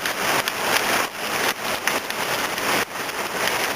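Steady rain pours down around a foundation trench at a building site, giving a loud, close, continuous wash of patter with occasional heavier drips.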